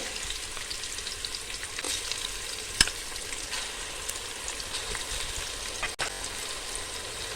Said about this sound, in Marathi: आपण ही चांगली परतून घेऊया